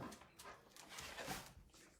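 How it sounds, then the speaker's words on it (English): A dog barks and whimpers indoors after coming in from a blizzard with snow on its face, short yips and whines close by in a small room with some background noise. "Why are you barking?"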